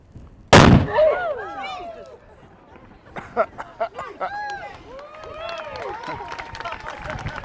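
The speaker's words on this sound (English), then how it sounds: "Okay, we're going to cover our ears. Oh. Signal gun!" A signal gun in Newfoundland fires one sharp, loud blast close by, followed by a ringing tail, then scattered bird-like chirps and outdoor ambience.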